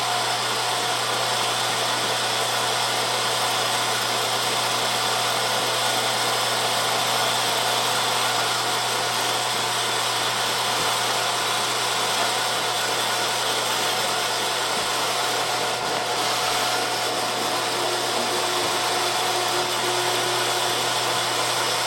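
Electric meat grinder running steadily while grinding wild game meat such as deer, elk, pronghorn, moose or caribou, a loud continuous motor whine and hum with no breaks and no talk.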